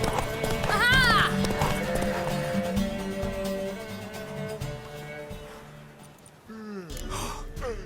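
Rapid rhythmic hoofbeats of a galloping horse in a video game race, with whinnies and breathy vocal gasps over a continuous musical backdrop.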